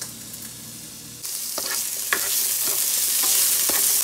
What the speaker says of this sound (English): We're just gonna sauté it to let it like get into like a little brown.